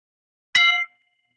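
A single meditation bell struck once during a guided mindfulness session, a clear bright chime that rings out briefly and fades quickly into silence, with no talking.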